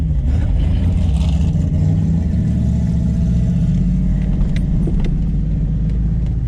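Unmuffled drag-strip cars roar loudly and continuously, a dense low engine rumble with revving that stays steady throughout, a Hellcat and a turbo Ranger among the racers.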